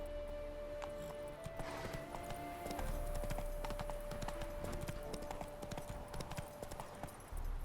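Roach, the horse in The Witcher 3, gallops in a quick, rhythmic clip-clop of hooves over steady game ambience, close and continuous.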